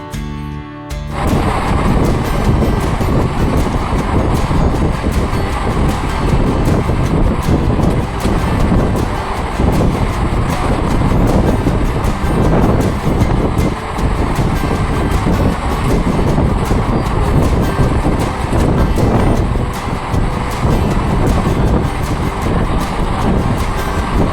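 A Sealdah to Suri MEMU express train rumbles steadily along the tracks nearing Andal Junction, a loud continuous roar with wind noise, heard from on board without pause.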